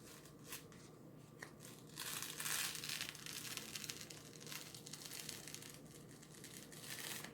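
A Chalk Couture transfer is peeled off a Dollar Tree canvas board, a soft crinkling and tearing rustle that swells in the middle and continues quietly close by.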